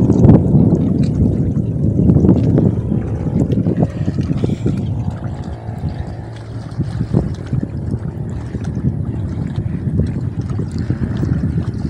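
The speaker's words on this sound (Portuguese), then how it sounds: "O vento aqui é muito forte." Strong wind buffets the microphone at the Banabuiú reservoir, a loud, continuous rumbling roar with gusty surges throughout, and no talk over it.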